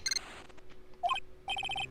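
A telephone in Phoenix Wright: Ace Attorney rings with quick electronic trills in short repeated bursts, close and clear over light game background noise, with no speech.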